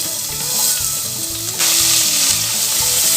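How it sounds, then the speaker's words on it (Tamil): Chopped onions sautéing in hot oil with fennel seeds in a pan for a lentil dumpling curry, giving a loud, close, continuous sizzle that grows stronger midway. A faint tonal hum runs underneath. "வெங்காயம் நல்லா வதங்கணும், அதனால நல்லா வதக்கிக்கோங்க"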